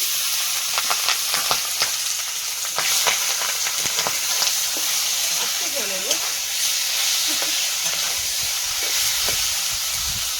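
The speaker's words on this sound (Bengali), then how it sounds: "তেলের মধ্যে মাংসটা দিয়ে দেবো।" Meat hissing and sizzling loudly in very hot oil, a constant frying crackle with sharp pops and occasional scraping stirs, a faint voice briefly in the background.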